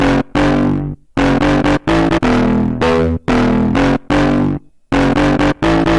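A heavily distorted brass-based synth bass plays loud, chopped rhythmic notes with short gaps between them, its tone muffled and darkened by a low-pass filter, in FL Studio Mobile.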